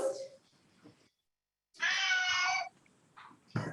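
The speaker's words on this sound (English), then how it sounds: "Cat." A domestic cat meows during a council meeting, first a short mew, then after a brief silence a loud, drawn-out yowl, with a final sharp meow at the end, all close to the microphone.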